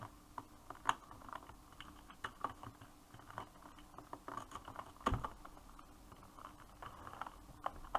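Rapid, uneven keyboard typing in a Turkish Egg Wars game chat, close and fairly quiet, with bursts of clicking keys and a few louder keystrokes over light background noise.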